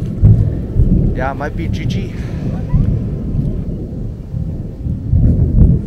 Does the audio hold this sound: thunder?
yes